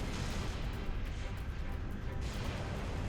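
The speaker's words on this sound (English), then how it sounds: "Immediately, rockets are fired back." Rockets fire back at Hunters on a hilltop during a large Marines-versus-Hunters battle in Halo Reach, a dense, continuous roar of launches and blasts with no pause.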